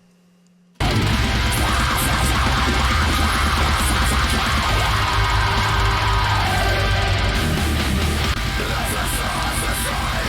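Harsh vocal screams ride inside a dense, loud metal mix from Dusares' "Abysmo" featuring Aswad and Fariz, buried among relentless drums and distorted guitars that kick in abruptly after a brief quiet lead-in.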